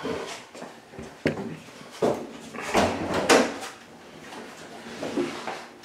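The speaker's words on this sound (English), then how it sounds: "So I'm going to shut my CAZ door." A combustion appliance zone door is shut during a worst-case draft test, giving a few close knocks and thumps with a clattering bump over a steady room background.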